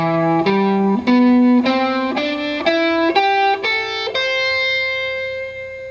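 An electric guitar with an effects-laden, slightly distorted tone plays a minor 9 arpeggio blended with pentatonic notes, about eight plucked notes climbing steadily before the last one rings out and sustains, alone and up close.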